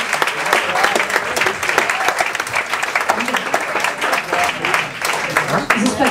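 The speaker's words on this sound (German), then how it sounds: "Das ist doch ein herzlicher Applaus" Warm audience applause after an a cappella performance, steady and full throughout with crowd clapping close and dense, and a hint of voices mixed in.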